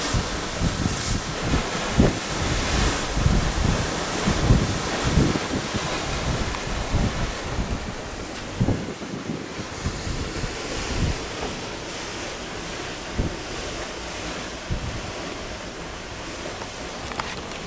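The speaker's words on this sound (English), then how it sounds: "Now you see how the waves break in a V?" Ocean waves breaking in a V-shaped wake against the hull of the Genting World Dream cruise ship off Singapore, a steady loud rushing wash with wind buffeting the microphone throughout, no voices.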